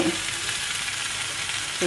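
Pork sizzles loudly and steadily in a hot pan, a dense crackling hiss that continues without pause throughout.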